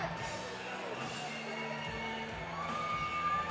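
Crowd of fight fans at a Shamrock Fuel Fight event cheering and whooping in a sustained roar, steady and loud throughout, with a few shouts rising out of the noise.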